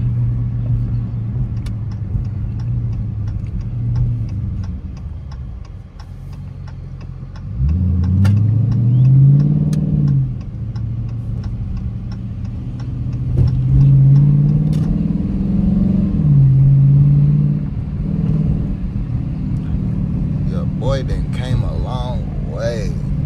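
Engine of a 2023 RT car rumbles steadily from inside during a drive, then swells in two distinct revs that rise and fall, loud and close, with someone talking at points over the drone.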